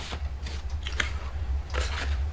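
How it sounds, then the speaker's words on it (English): Scissors cut a 1-inch strip from black cardstock close up, giving several crisp snips in an uneven rhythm over a low background rumble. "I'm just going to cut 1 inch, and we can get both hinges out of this one strip."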